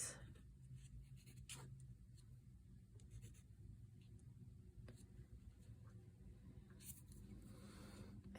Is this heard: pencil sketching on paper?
yes